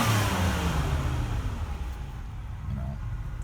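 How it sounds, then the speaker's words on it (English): A healthy V6 in an Oldsmobile Cutlass Ciera is revved in a driveway, the loud engine note sweeping down as the revs fall back toward a steady rumble. "Give her a little rev action here, so. Hey, listen to it. That's a healthy V6."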